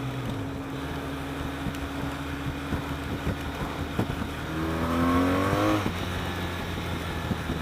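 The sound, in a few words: BMW R 1200 RT motorcycle engine revving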